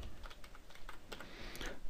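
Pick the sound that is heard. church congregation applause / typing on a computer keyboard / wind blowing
typing on a computer keyboard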